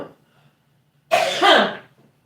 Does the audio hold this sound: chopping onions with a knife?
no